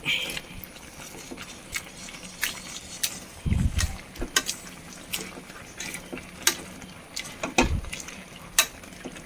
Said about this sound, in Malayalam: മത്തങ്ങനെയൊക്കെ ഉടച്ചെടുക്കാം.